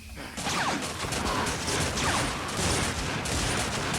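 Dense gunfire in the video game Survivalist: Invisible Strain, a continuous loud rattle of rapid shots with mechanical clatter and occasional whooshes filling the whole stretch.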